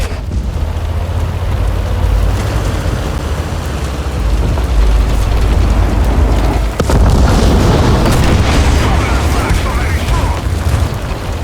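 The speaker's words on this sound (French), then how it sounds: "Tire des obus AP." Tank cannons firing armour-piercing shells in World of Tanks, with heavy booming blasts over a constant low rumble of engines and battle noise, loud throughout, with a sharp burst near the middle.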